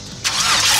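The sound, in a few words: LS-swapped Ford Mustang engine cranking and starting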